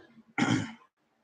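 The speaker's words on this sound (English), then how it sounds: "Sorry, I do have a cough." A single short, husky cough, close and fairly quiet, with faint murmuring just before it.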